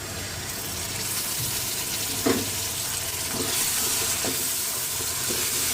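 Tomatoes fry in a pan with ginger garlic paste, making a close, even sizzle with a steamy hiss that holds steady, broken by a few soft stirring knocks. No voices are heard.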